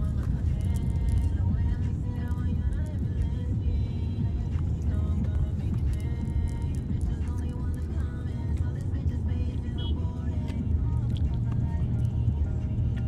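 Steady low road rumble from inside a car heading home, with continuous engine and tyre noise filling the cabin and people talking and murmuring throughout.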